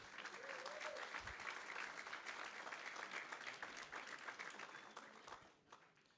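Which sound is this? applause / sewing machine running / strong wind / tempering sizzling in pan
applause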